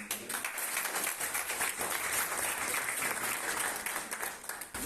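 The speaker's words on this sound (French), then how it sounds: "Je vous redemande encore des applaudissements." A crowd at a 47th-anniversary Green March celebration in Molenbeek, Brussels, applauds steadily from start to finish in a thick, even wash of clapping heard at a moderate distance.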